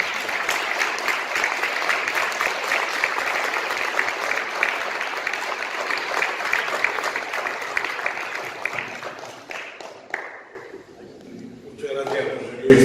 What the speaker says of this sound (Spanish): un gran aplauso y la bienvenida para don Ramón Tamames